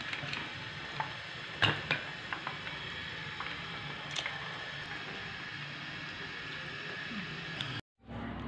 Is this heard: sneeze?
no